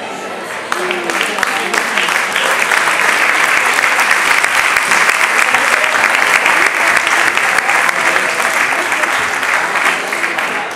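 A crowd applauds participants at a fashion show runway event in Villaviciosa, loud sustained clapping that stays steady from start to finish, with a voice talking faintly beneath it.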